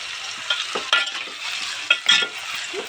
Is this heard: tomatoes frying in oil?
yes